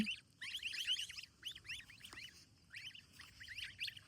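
Ducklings peep in rapid, high-pitched bursts, several chirping together in quick clusters with brief pauses, fairly close and otherwise quiet.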